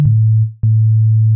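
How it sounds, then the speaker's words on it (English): Two sustained pure sine tones from an FM synth in Ableton, each a clean low hum with faint added overtones, separated by a brief gap and starting with a small click. "I have my simple sine wave here on oscillator 1, and once I start to increase the level of the oscillator 2,"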